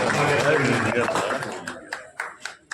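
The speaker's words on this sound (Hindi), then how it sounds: "जोरदार तालियां" An audience at a club camp event breaks into applause that starts dense and loud, then thins into a few scattered claps, with a voice speaking over the start.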